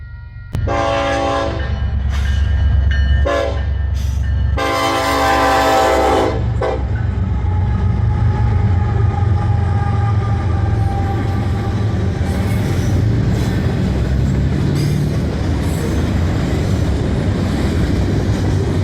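A southbound Union Pacific manifest freight train pulls into Eugene, sounding several loud horn blasts over the low rumble of the cars, then the long steady roar and rattle of the wagons rolling past close by.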